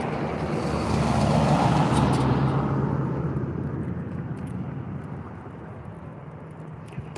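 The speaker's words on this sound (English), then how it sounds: "there's a lot of traffic tonight" Night-time road traffic: a steady, heavy roar of cars passing, swelling to its loudest in the first couple of seconds and then slowly easing off, with no voices over it.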